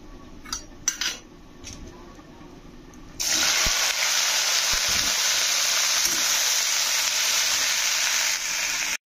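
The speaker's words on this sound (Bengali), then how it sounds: "এটা ভাজা করব, এখন তেল দিয়ে দিয়েছি।" Fish goes into hot oil in a home kitchen. A few light clinks of utensils come first, then a sudden loud, hissing sizzle bursts in and holds steady until the end.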